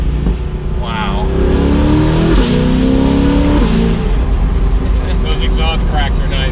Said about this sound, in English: Those exhaust cracks are nice.